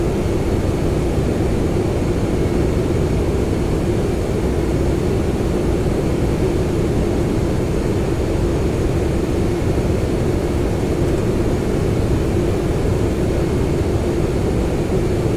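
Boeing 767 jet engines held at climb thrust in a flight simulator game, a loud, steady, broadband roar that runs unbroken and unchanging throughout, with no voices over it.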